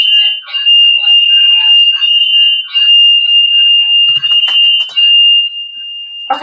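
A loud, piercing fire alarm–style tone blares continuously and close, a steady high pitch with a slightly pulsing edge, lasting the whole clip with faint rustling underneath.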